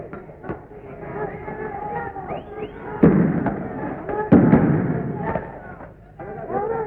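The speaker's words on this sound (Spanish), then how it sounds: "Se escuchan disparos de gases lacrimógenos." Tear gas canisters fire in sharp bursts and thumps amid a noisy crowd of protesting students with shouting voices, two louder blasts standing out over the chaotic din.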